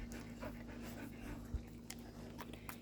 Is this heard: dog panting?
yes